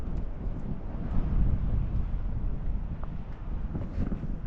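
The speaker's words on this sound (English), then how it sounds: "It's a little bit windy now." Wind buffets the microphone at the Time and Space viewpoint on the Ibiza coast, a continuous low rumble with gusty swells and no voices.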